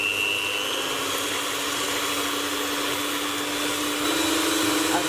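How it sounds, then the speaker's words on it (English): An electric beater runs on high speed through macaron mixture, giving a steady, loud motor whine and whirring hum that holds without a break and rises slightly near the end. "using a beater, we're going to beat these on a high speed until we start to get soft peaks"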